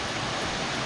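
Small waterfall at Cascada Bascan near Palenque, a steady broadband rush of falling water that holds constant and close throughout, with no voices.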